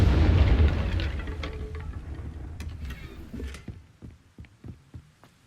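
A Confringo fire spell cast in Hogwarts Legacy erupts with a loud, booming fiery blast that fades away, followed by a few soft rhythmic thumps.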